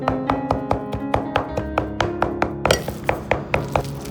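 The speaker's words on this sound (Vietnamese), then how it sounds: "Sau đó thì mình cũng dùng dao băm sơ sơ nha." A knife minces shrimp rapidly on a cutting board, a steady run of sharp, close taps with a few heavier thuds near the end.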